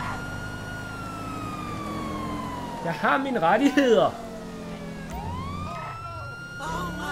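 Police car siren in the GTA 5 Online video game, a loud wailing tone that glides slowly downward and then swoops back up, with someone shouting over it partway through.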